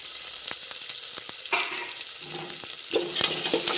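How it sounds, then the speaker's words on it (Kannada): Potatoes and peas frying in ghee for a tempering, with broadband sizzle and several short spoon-stirring scrapes against the pan, close and steady, without speech. "ತುಪ್ಪದಲ್ಲೇ ಒಗ್ಗರಣೆ ಮಾಡ್ಕೊಂಡಿದ್ದೀನಿ."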